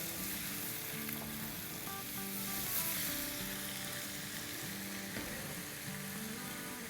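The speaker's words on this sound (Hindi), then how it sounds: "तो इनको भून लेंगे।" Cut okra (bhindi) sizzling steadily in hot oil in a pan, a continuous close frying hiss with faint stirring scrapes, no voices.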